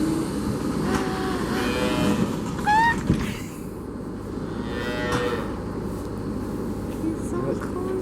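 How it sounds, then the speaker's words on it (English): Baby cows mooing in a pasture barn, several drawn-out calls rising and falling over a steady low rumble, with a person talking among them. "And then they also have little baby cows."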